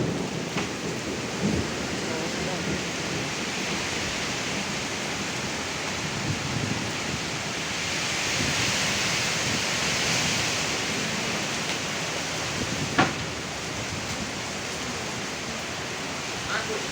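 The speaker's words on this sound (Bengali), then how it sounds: "প্রচণ্ড বাজ পড়ছে" A Kalbaishakhi storm pours heavy rain in a dense, continuous roar, with a sharp thunder crack near the end and low rumbles beneath.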